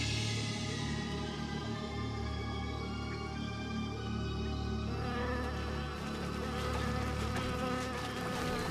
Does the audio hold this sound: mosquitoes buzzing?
yes